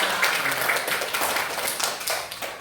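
A group of students in a classroom claps, a short burst of quick, fairly close hand claps that thins out after a couple of seconds.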